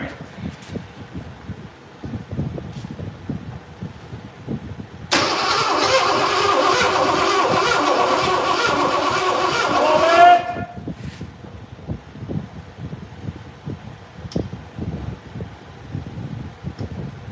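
An engine cranks for about five seconds with a steady, loud starter grind, then briefly catches before dropping back, followed by quieter idle-like rumble and background noise.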